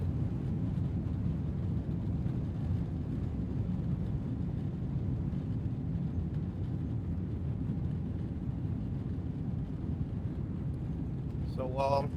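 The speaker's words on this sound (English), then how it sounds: "So we're taking off right now." A United Airlines airplane taking off from SFO makes a steady, broad cabin rumble from inside, engine roar and rattling shake blending together, with a brief louder burst near the end.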